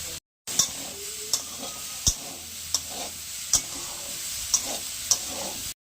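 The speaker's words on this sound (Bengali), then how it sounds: "কপি ভাজা হয়ে গেছে" Cauliflower frying in a pan with onion, paste and sugar: a continuous close sizzle broken by regular, evenly spaced sharp taps of a spatula against the pan, no voices.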